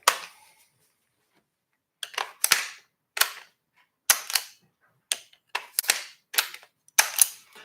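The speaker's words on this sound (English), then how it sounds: "So, 2 fingers. Locks in every time. 30 rounds. Gen 2 PMAG." A 30-round Gen 2 PMAG magazine for an AR-15 rifle snapping in and out: sharp, close metallic-polymer clacks, one alone, then a quiet gap, then a quick run of about ten clicks, with no speech.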